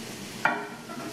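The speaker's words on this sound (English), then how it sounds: "I'm hearing sizzle" Sizzling from breakfast cooking: a short, sharp hiss bursts up near the middle of the moment and then settles into a faint, steady crackle, with no voices.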